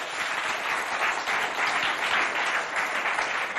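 Studio audience at a televised school quiz show applauding the contestants, a steady wash of many hands clapping throughout, moderately loud and continuous with no pauses.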